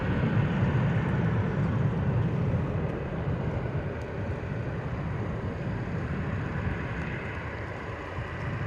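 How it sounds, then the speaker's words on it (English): Cessna Citation XLS private jet on approach into London Luton, a steady broadband engine roar with wind-buffeted rumble, fairly loud and continuous throughout with no talking. "Cessna Citation XLS is our next arrival here at London Luton"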